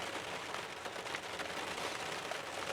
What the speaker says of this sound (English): it's really pouring on the rain. You can hear it beating off the roof of the buggy.